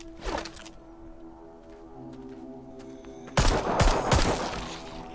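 Gunfire in the VR shooter Arizona Sunshine comes as a quick burst of several sharp shots near the end, after a quieter stretch with one earlier crack, loud and close.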